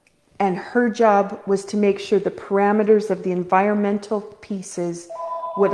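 A phone rings or chimes with a steady electronic tone near the end, coming in under continuous talk from a woman discussing wellness.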